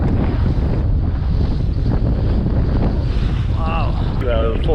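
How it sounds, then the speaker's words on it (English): Strong wind buffets the microphone in a steady roar beside a rocky shore, with rushing water and waves beneath it; a few faint whistling tones surface near the end. "A little bit windy today."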